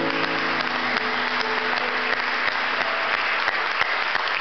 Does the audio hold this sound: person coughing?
no